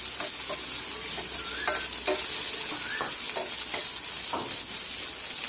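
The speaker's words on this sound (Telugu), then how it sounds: "1 కప్పు ఉల్లిపాయ ముక్కలను వేసి ఎర్రగా అయినంత వరకు వేయించుకోవాలి." Onion pieces fry in a pan with a steady, close sizzle, broken by occasional stirring scrapes and bubbling pops.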